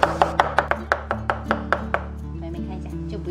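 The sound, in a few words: chopping garlic into minced garlic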